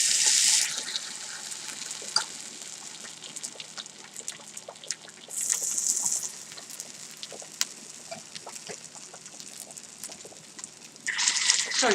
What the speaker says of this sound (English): So I'll now begin to put the batter into the fry.